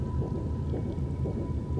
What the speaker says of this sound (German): Warum höre ich hier Regen?